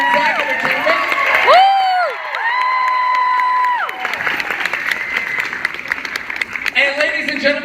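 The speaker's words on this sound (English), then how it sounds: "Please give a big round of applause to Kevin Marciano, our producer from Zag Entertainment." A convention panel audience at San Diego Comic-Con claps and cheers for a producer being introduced, the applause swelling briefly with whoops over a loud voice, then giving way to crowd noise and talk.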